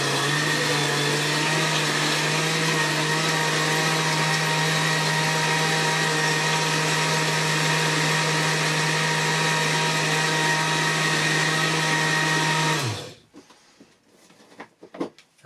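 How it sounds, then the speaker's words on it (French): An electric mixer churns boilie fishing-bait ingredients with a loud, steady whirring drone for about thirteen seconds, then cuts off abruptly, leaving faint clatter and handling noises. "Je mélange, à chaque fois je rajoute un ingrédient."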